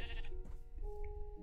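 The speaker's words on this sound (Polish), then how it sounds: "a najprawdopodobniej mamy owce" A Minecraft sheep gives a clear, close bleat, followed by a quieter, wavering call over a low, steady game hum, with no talking.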